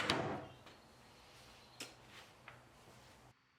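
A wooden dresser drawer slides along its drawer slides with a soft rolling rush, followed by a few light knocks and clicks before falling quiet.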